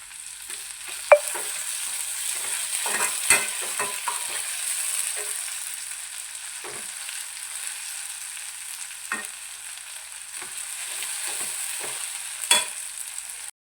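Tomatoes going into hot oil for a Kerala-style kadala (chickpea) curry, giving a steady sizzle with several sharp spatula scrapes and knocks against the pan, close and fairly loud with no talking.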